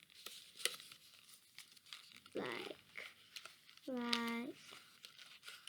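Paper being creased and folded by hand for a honeycomb beehive craft, soft crinkles and rustles coming in short bursts close up, with a person speaking quietly in between.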